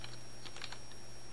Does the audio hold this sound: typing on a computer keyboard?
yes